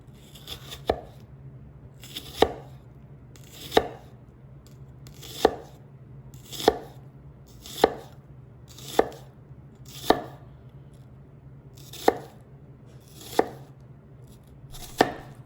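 A Shun Premier 8-inch chef knife chopping food on a board, about a dozen crisp, evenly spaced strikes roughly a second apart, close and clear with quiet gaps between and no voices.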